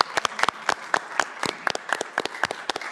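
Applause at a city council meeting, a small group clapping steadily with distinct close hand claps in a brisk, uneven rhythm.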